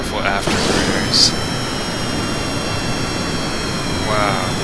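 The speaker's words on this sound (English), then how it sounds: "Listen to these beautiful afterburners." A loud, steady jet roar with a brief high whine, sustained throughout like engines on afterburner, from the video game Kerbal Space Program.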